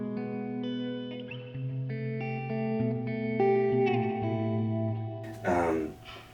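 Electric guitar with the tone knob rolled all the way down and reverb added, thin sustained chords ringing out with chorus shimmer and a long reverb tail.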